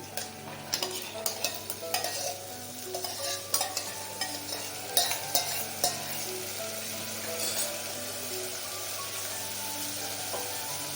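Onion fries with a low, steady sizzle for a red cowpea usal while a spoon scrapes and knocks against the pan in an irregular series of stirs, quiet and close with no talking.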